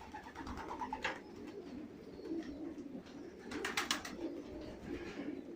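Pigeons coo softly nearby in low, throaty bursts, with some brief wing or movement noises in between.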